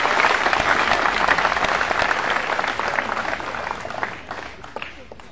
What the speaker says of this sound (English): I want us to give ourselves a round of applause again